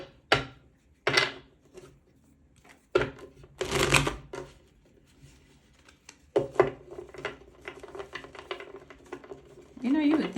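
Tarot cards are shuffled in several quick riffling bursts separated by pauses, close up, with a voice speaking briefly toward the end.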